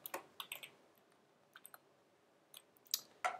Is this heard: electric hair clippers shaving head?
no